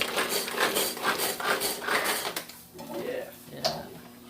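Shakshuka being mixed in a pan: a quick, rhythmic run of scraping and clinking strokes, close and fairly loud, fading into a few scattered scrapes, with people talking over it.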